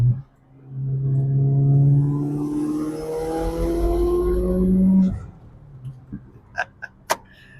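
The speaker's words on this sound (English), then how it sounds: "car's running great" Close, loud engine of a wide-body Mitsubishi Evo revving up through a long rising sweep for about five seconds, then dropping to a lower idle broken by a few sharp clicks and knocks.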